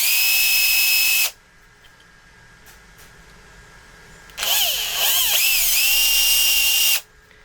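A power drill with a 2 mm bit whines at high speed in two bursts, the second with wavering pitch as it bites into a prop katana build, separated by a quiet pause.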